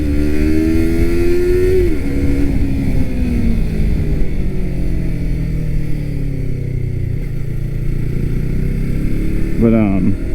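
Yamaha R3 motorcycle engine riding at steady speed, a continuous loud drone that rises and falls in pitch with throttle changes, with a brief rev near the end.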